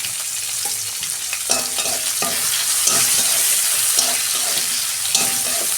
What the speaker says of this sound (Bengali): ওই তেলেতেই আমি কালো জিরে দিচ্ছি, পেঁয়াজ একটা বড় কেটে রেখেছিলাম দিয়ে দিচ্ছি